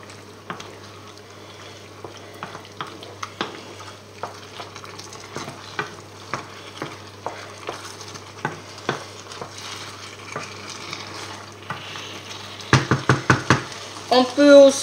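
Squid cooks Basque-style with tomato in a pan after a splash of water. A spoon scrapes and taps the pan at a steady rhythm over a low simmer, and the stirring gets quicker and louder near the end.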